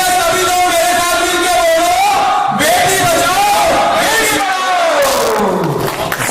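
A large crowd shouts a slogan together in unison, a loud, sustained mass of voices rising and falling in pitch, filling the space with a roaring chant.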